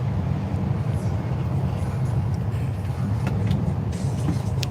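Dense road traffic on the way out of Kampala toward the border, a continuous low rumble of passing cars, buses and trucks with occasional brief hisses and clatters over the top.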